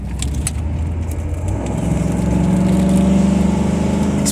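A Cadillac Allante grand touring car accelerates on a sunny day, its engine building into a loud, steady, throaty drone that rises slightly in pitch and strength partway through, with no voices over it.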